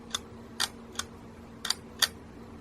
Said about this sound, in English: Shutter works. Not perfectly. It's definitely a little bit rusty.